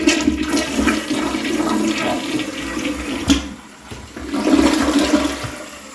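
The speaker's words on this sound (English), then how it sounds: "Let's flush it again." A toilet with a running-tank problem, under repair, flushes with a loud, steady rush of water that dips briefly, then surges again as the bowl and tank refill, with no talking.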